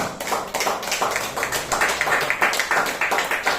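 Congregation clapping in church during a Spanish-language sermon, a dense, steady patter of many hands filling the room, continuous and fairly loud throughout.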